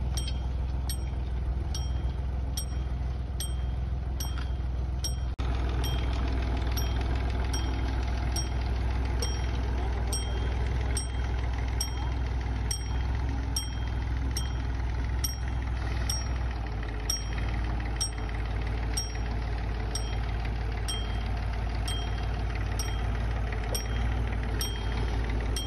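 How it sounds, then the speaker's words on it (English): A Ferguson tractor engine drones steadily and close throughout while planting potatoes, with a low, constant rumble and a regular faint ticking. "With such a big area to cover, you may notice the tractor going slightly faster."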